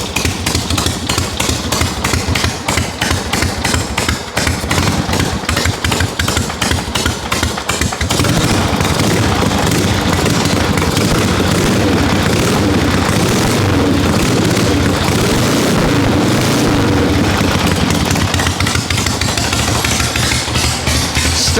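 Cold 1974 Harley-Davidson XLCH Sportster chopper engine running after five years apart, a loud close uneven lumpy idle with rapid pulsing exhaust beats that smooth into a steadier rumble.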